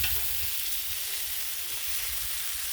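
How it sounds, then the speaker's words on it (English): Tri tip sears on a Blackstone griddle with a dense, continuous, close sizzle like steady hissing spatter, loud and even throughout with no talking. "Get that sear going there."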